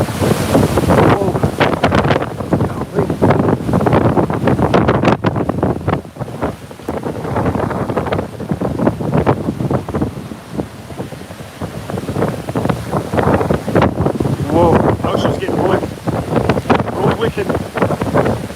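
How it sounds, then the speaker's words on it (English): Strong hurricane wind from Hurricane Nicole roars and buffets the microphone on a Florida beach, with surf churning underneath and voices briefly heard through the din. "I know it's loud. Wind, look at this."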